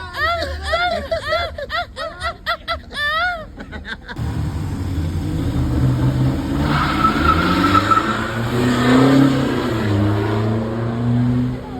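A Honda Civic accelerates hard after a few seconds of excited voices and laughter, its loud engine note climbing steadily in pitch as it pulls away.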